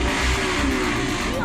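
A motorcycle fitted with a loud brong aftermarket exhaust revs in a convoy on the road, a rough, throaty engine roar that stays loud and steady, with voices mixed faintly underneath.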